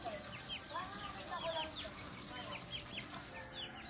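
Free-range hens of a 45-day meat chicken breed cluck and chatter in a busy flock, several birds calling over a constant noisy farmyard background.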